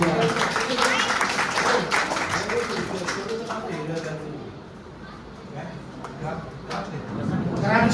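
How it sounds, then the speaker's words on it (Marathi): Applause for a boy at a society event, a crowd clapping in a dense wash that swells, dips midway and picks up again, with someone speaking over it and chatter in the background. "टाळ्या वाजवा त्याच्यासाठी"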